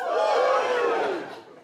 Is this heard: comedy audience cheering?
yes